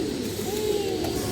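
A pigeon coos softly and close by, one short low rolling call over faint background noise.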